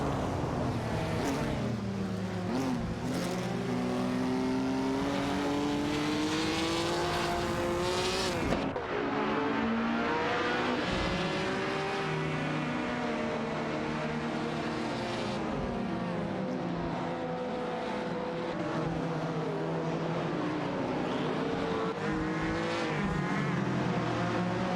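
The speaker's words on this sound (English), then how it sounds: "Nukem Bochum is behind the wheel of a Fiat X19 Dallara, while the man is driving a Porsche 904." Race cars in a video game, a Fiat X19 Dallara and a Porsche 904 among others, roar continuously with shifting engine pitch and revving, loud and steady throughout with no talk.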